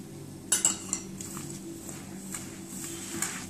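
Green chickpea tikki mixture being mixed with cornflour in a bowl, with a few close clinks and taps of a utensil against the bowl over a low steady background hum.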